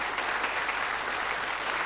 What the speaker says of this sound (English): a nice warm round of applause for Vic and John